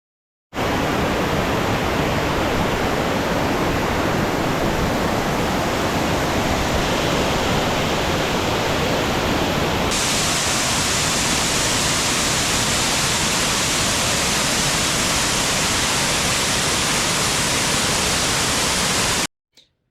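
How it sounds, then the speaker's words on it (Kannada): Sirimane waterfall plunging from about 40 feet, a dense, roaring rush of falling water that stays loud and constant, close up and alone, with a slight shift in texture midway. "ಇದು ಸುಮಾರು 40 ಅಡಿ ಎತ್ತರದಿಂದ ಧುಮುಕುತ್ತೆ"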